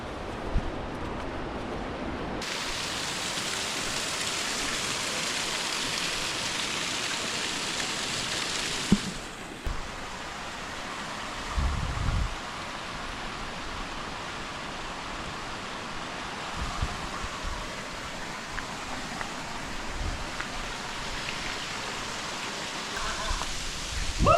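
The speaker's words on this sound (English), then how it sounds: "Found the waterfall." Waterfall at Elves Chasm in the Grand Canyon, a steady broadband rush of falling water that swells sharply after a quiet start, with brief voices and handling noises breaking through the roar.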